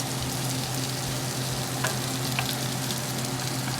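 Garlic sizzles in a hot pan while a wooden spatula stirs it, giving a close, continuous frying hiss with a few soft scrapes and no talking.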